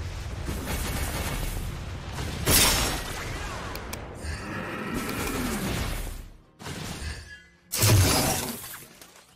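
A structure in Mobile Legends: Bang Bang is destroyed with a loud shattering crash, alongside several other bursts and booms from in-game combat across the stretch, with no talking.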